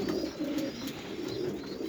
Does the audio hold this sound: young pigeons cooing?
yes